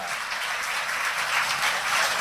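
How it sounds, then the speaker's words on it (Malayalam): Audience applause for a prize-winning student at a school event, a steady, even patter of clapping from a crowd throughout. "അംന ബഷീറിന് വേണ്ടി എല്ലാവരും നല്ല ഒരു കയ്യടി കൊടുക്കുക"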